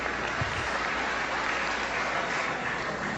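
A crowd at a political speech event claps in steady, dense applause that stays even from start to finish, with no talking over it.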